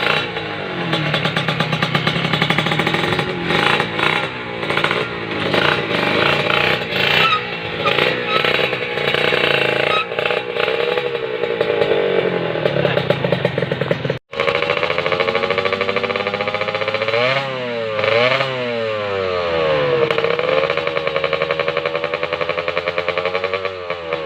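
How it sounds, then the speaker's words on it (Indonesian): A Kawasaki Ninja motorcycle engine runs on a mix of premium fuel, pertamax, pertalite and vegetable oil, loud and close with rough revving swells, a sudden brief cutout midway, then repeated rising and falling revs. "langsung aja kita tes ya motornya"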